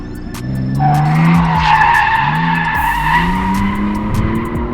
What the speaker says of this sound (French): Jenny qui drift derrière